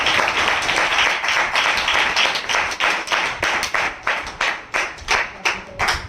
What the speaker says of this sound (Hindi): आप जोरदार ताली से उनका स्वागत करें।